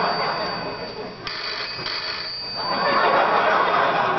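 A telephone rings on a late-night talk show set, its bright bell sounding through audience noise and murmuring.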